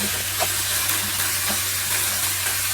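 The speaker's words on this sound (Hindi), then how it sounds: "ये देखें ये हो गया, इसमें फ्राई हो गया। बस अब हम इसको मिक्स कर" Potatoes and eggs frying in a pan with spices, giving a steady close sizzle and hiss with a few soft scraping stirs, no talking.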